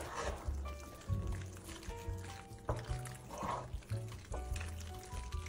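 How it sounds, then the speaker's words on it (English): Macaroni noodles are stirred into cheese sauce, giving a close, wet squelching and sloshing with soft clicks of a utensil against the pan, repeated in a loose rhythm without voices. "mixing the noodles and the cheese sauce together"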